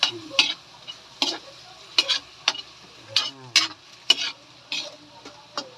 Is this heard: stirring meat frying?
yes